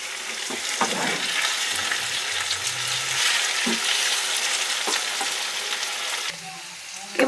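Chicken and potatoes sizzle and fry in oil while being stirred for chicken kasha, a steady close crackle broken by a few scraping stirs, with no talking.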